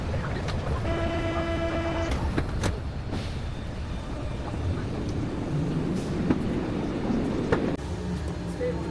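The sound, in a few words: Paris metro train ride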